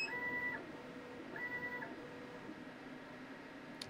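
A Thunder Laser Bolt laser engraver moves its head to frame a wooden workpiece, giving steady whirring motor tones in two short passes over a low hum. The machine is fairly close.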